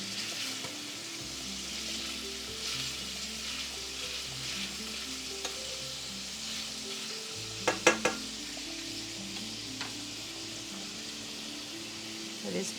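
Smoked sausage and alfredo sauce sizzle steadily in a pan, a continuous frying hiss with a low hum underneath and a few brief clinks partway through.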